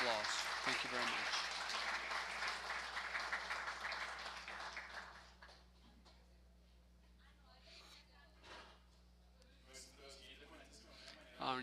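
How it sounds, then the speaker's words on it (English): An audience at a symposium session gives a round of applause, a dense clapping wash that fades after a few seconds, followed by quiet room tone and a few scattered sounds, with a voice speaking. "We thank Dr. Mateo Lopez with a round of applause."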